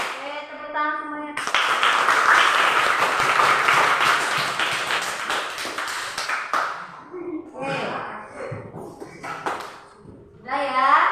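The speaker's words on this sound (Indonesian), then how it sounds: "Tepuk tangan semuanya." A classroom of students claps together in a burst of dense applause lasting several seconds, then fades as children's voices and a teacher's speech take over.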